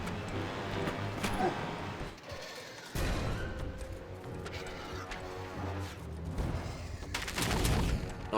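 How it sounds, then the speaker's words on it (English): Grenade launcher blasts in Bionicle Heroes, a dense run of loud booms and crashing gunfire with a sharp burst near the end, set over a busy game soundtrack. "Appropriate that I used the grenade launcher."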